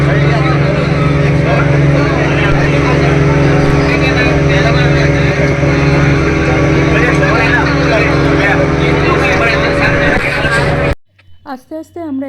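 A motorboat engine drones steadily while the boat travels on the sea off Goa, a loud close rumble under continuous talk that cuts off abruptly near the end, leaving only speech.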